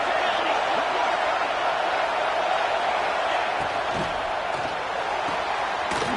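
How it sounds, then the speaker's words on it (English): A big stadium crowd at a Texas A&M versus LSU college football game roaring steadily as the defense holds near the goal line, a dense, loud wall of cheering with occasional thumps and shouts, and a commentator talking over it. "And this big crowd doing everything possible to inspire this defense down here near the goal line."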